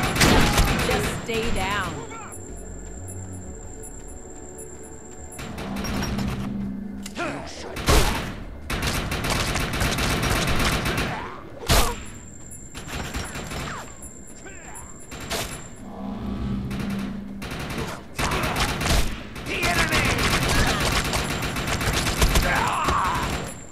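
Gunfire in the video game Defiance 2050, with bursts of loud shots and booming blasts scattered through a busy mix of game sounds and mechanical clatter, while a player talks over much of it.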